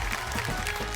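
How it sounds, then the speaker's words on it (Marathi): Brief burst of audience clapping on a Marathi TV show, loud and blended into a wash of hands lasting about a second. "एकदा जोरदार टाळ्या झाल्या पाहिजेत."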